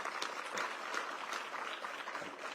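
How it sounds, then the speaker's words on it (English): An audience applauds at the ceremonial groundbreaking for the Long Bridge rail project, a steady wash of clapping from many hands with no voices over it, holding at an even level throughout. "So the applause doesn't count towards my 2 minutes, right?"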